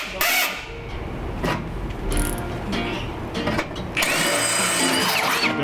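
A power drill runs in short, loud bursts during sheet metal skinning on a school bus conversion, its whine starting and stopping close by, ending in a sustained high-pitched run with metallic scraping.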